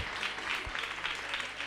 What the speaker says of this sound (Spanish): Le vamos a dar la bienvenida a Carlos y Selva Escruta con un fuerte aplauso